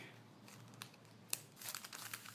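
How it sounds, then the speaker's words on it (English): A plastic bag filled with gel crinkles and crackles softly up close, in short irregular bursts of rustling with a few sharper snaps. "So it's a plastic bag and that's gel in there."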